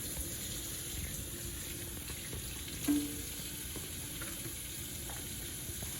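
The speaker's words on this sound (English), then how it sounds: "Turn my water back on so I can rinse my hands" Kitchen tap water runs in a soft, steady hiss for rinsing hands, quiet and continuous, with a brief clunk near the middle.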